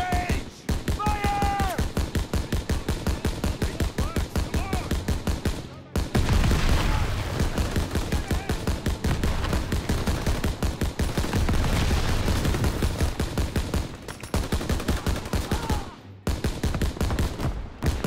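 Dense, loud rapid gunfire from soldiers in the Call of Duty WWII video game, machine-gun bursts and rifle shots rattling almost nonstop, with shouted commands over the din.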